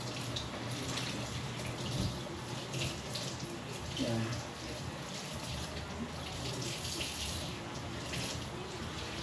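Tap water pours in a steady, loud rush into a sink as string beans are rinsed under it for a black bean adobo, with someone talking briefly over the flow.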